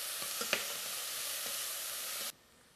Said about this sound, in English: I just want to cook this onion down just enough so it starts getting clear